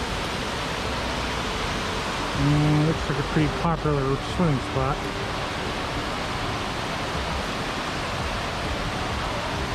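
Waterfalls at Old Stone Fort in Manchester, Tennessee, pour below a cliffside at a popular swimming spot, giving a steady close rush of falling water throughout, with a person speaking briefly over it midway.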